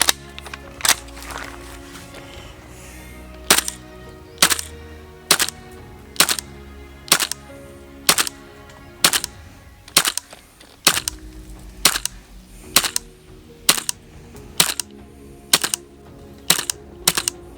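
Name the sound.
Tokyo Marui M4A1 MWS gas blowback airsoft rifle firing BBs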